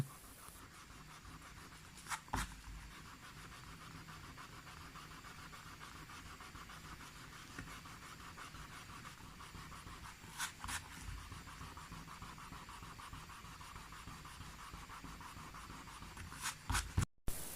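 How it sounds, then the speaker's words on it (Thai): A blue eraser rubs pen ink off paper with a steady, faint scratchy friction, continuous and close, with a few sharper scuffs along the way and a burst of louder rubbing at the end. "ถู ยางลบสีน้ำเงิน เนี่ย นะครับ บน ปากกาที่ผมขีดลงไปเนี่ยให้ดูนะครับ"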